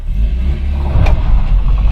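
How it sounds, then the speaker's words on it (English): A warmed-up Australian-assembled Peugeot 404 accelerates, its engine rising in a loud, close rumble with a brief surge midway, no talking. "let's go for a bit of acceleration now she's warmed up"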